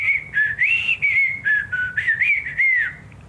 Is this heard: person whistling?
yes